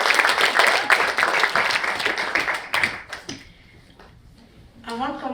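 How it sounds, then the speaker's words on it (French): An audience applauds at a speech event, a dense, steady burst of clapping for about three seconds that thins out and fades, before a voice begins speaking. "je vous invite à vous applaudir"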